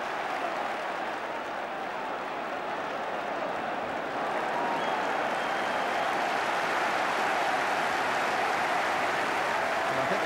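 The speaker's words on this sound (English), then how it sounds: "the crowd enjoyed that" A football crowd at a Colchester United versus Sheffield United match applauding, a broad continuous roar of clapping that grows slightly louder midway and holds steady, with faint commentary underneath.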